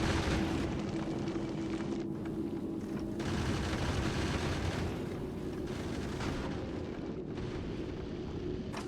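Gun turrets firing continuously on a spaceship bound for Vulcanus in Factorio Space Age, loud, dense rattling gunfire and blasts pounding without pause over a low, steady hum, with short gaps in the volleys.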